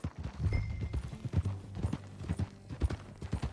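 Horse hooves in Red Dead Redemption II pound in a fast, steady galloping rhythm, close and clear, with a low rumble and a brief snort under the beat.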